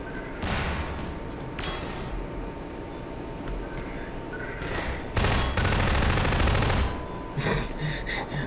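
Rapid bursts of automatic gunfire from enemies in Half-Life 2 hammer in close and loud, several long fusillades separated by brief gaps, with sharper single shots near the end.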